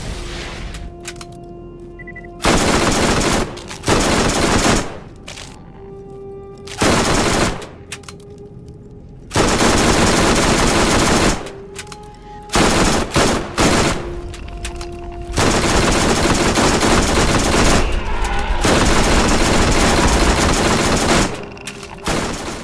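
Loud bursts of rapid automatic gunfire blast repeatedly at the giant crab boss Crawmerax in the Borderlands video game, sustained volleys of several seconds separated by short pauses filled with game ambience.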